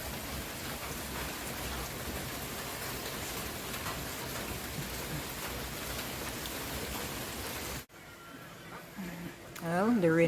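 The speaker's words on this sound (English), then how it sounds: "Well, the rain looks like it not ease up," Heavy rain pours steadily in Kingston, Jamaica, a dense loud hiss that cuts off abruptly near the end, followed by quieter sounds and a voice.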